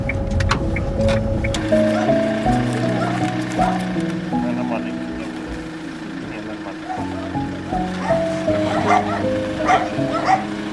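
Family dog barking and yipping during a child evacuation from a frontline village, with whimpers among the barks, under ongoing conversation and background noise.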